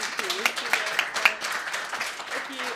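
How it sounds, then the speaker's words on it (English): A short burst of scattered clapping and applause from a room of people at the 2023 Warwick Students' Union election results, moderate in volume, with some voices mixed in. "I think another round of applause for everyone."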